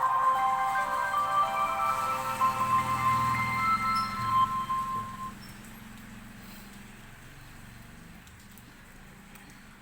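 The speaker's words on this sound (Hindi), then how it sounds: "ये हमारा मोबाइल ऑन हो रहा है।" A VGO TEL Smart4 mobile phone plays a bright melodic startup chime for about five seconds as it powers on, then the sound fades to near silence.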